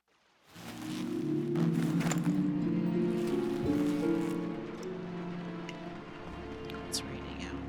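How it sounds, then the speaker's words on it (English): Steady rain falls in the video game Dishonored, a soft broadband wash that holds evenly for several seconds under sustained low tonal music or ambient drone. "It's raining out, that's nice."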